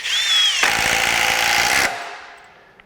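A Milwaukee M18 compact brushless driver sinks a large decking screw, with a loud whirring whine that turns into a rough, rattling buzz for about a second before stopping abruptly. Close and unaccompanied by speech.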